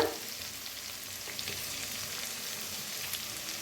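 A masala of onion, tomato, turmeric, red chilli and garam masala roasts in a pan with a soft, steady sizzle. The frying hiss stays even and fairly quiet, with a few faint stirring scrapes and no talk.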